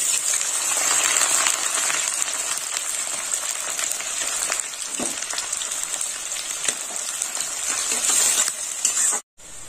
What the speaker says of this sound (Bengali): কুচানো পেঁয়াজ দিয়ে দিলাম